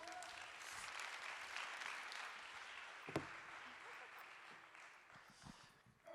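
Steady applause from a conference audience greeting a speaker fills the room, a continuous wash of clapping at moderate volume with a few louder claps near the end.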